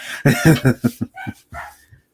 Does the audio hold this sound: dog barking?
yes